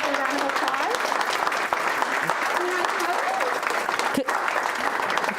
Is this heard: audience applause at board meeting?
yes